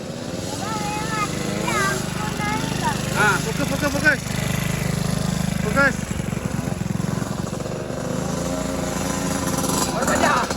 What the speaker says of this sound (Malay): Macam dah start motor dia.